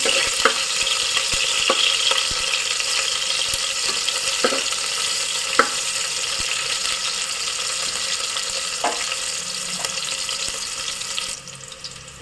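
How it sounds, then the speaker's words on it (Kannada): Onions frying in a pan, a steady hissing sizzle with a few sharp spoon taps scattered through, close and fairly loud, fading out near the end. "ಬರೀ ಈರುಳ್ಳಿ ಅಷ್ಟೇ ಹಾಕ್ತೀನಿ ಈರುಳ್ಳಿ ಸ್ವಲ್ಪ ಫ್ರೈ ಆಗಲಿ"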